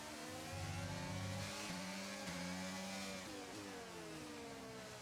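Engine of an F1 22 video game car at Hungary, a continuous high revving whine that drops in pitch as it brakes late and downshifts, then climbs again, loud and alone.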